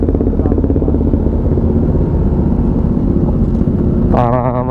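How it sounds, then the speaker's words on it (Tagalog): Honda CBR 1000 motorcycle idling at a loud, steady rumble close by, joined near the end by a rising higher-pitched engine whine from another bike. "Kaya kung gusto nyo marinig anong tunog ng CBR 1000 na naka-idle, lakas no."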